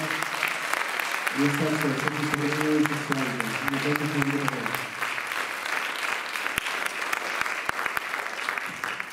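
Concert audience applause at a tribute concert, steady clapping throughout while someone speaks over it for a few seconds near the start.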